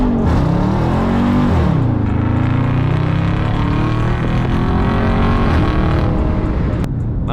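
A Dodge Charger 392 Scat Pack accelerates hard from a stop, its loud V8 roar climbing in pitch through the gears, heard from inside the car as one sustained, powerful pull.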